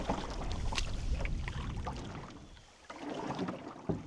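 Canoe paddling on Nellie Lake in Killarney, with steady water swishes and gurgles from paddle strokes, close and moderately loud, touched by wind noise and a brief lull before strokes resume.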